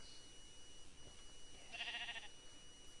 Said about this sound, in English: Ooh, there's a sheep.